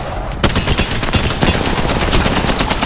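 Rapid automatic gunfire in Apex Legends bursts in suddenly after a brief quiet start and runs on as a dense, loud, unbroken stream of close shots.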